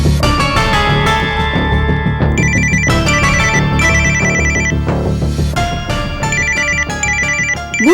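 A telephone rings indoors in a home with a loud, close, repeating electronic melody that plays continuously with a steady rhythm.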